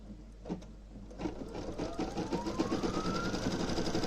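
A Brother Stellaire embroidery machine stitches a hanging decoration badge with a steady, rapid mechanical whir, its pitch climbing as the machine speeds up over a few seconds.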